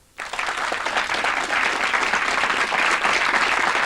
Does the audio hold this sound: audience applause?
yes